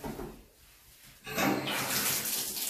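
Running water rinsing baking soda off a bathtub, quiet at first, then a tap gushing loudly and steadily into the tub partway through, close by.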